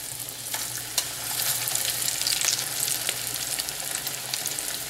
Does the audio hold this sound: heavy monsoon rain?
no